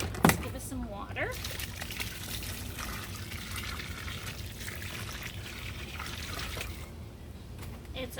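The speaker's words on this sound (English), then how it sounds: "Let's give it some water." Water is poured into loose soil in a potato container, a steady close trickle and gush continuing throughout while a person talks over it.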